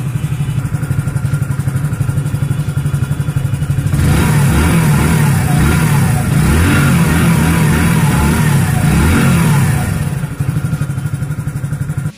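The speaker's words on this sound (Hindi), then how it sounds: "अब आप थोड़ा सा एग्जॉस्ट नोट भी सुन लीजिए।" Hero HF Deluxe Fi BS6 commuter motorcycle idling close by with a steady exhaust note, briefly revved louder in the middle before settling back to idle, with no talk.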